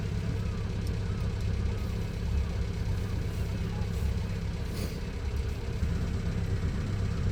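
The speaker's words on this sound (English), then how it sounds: "The engine felt great, the throttle felt great" A sailboat's inboard engine runs at a steady, even drone throughout, a constant low rumble with no breaks, close by and fairly quiet.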